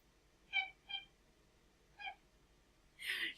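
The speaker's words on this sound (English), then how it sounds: "What do you want, cat?" A cat in Spiral Knights lets out a few short, faint meows, two close together and another after a pause, then a longer, louder meow at the end.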